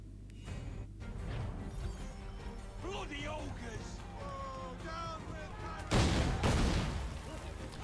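Explosion in the video game Assassin's Creed III on Wii U, a burst of booming crashes and rumble that swells near the end, mixed with game effects and talking throughout.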